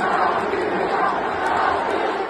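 A Real Madrid football stadium crowd roars in a thick, continuous wall of voices, loud and sustained, with no single chant standing out clearly.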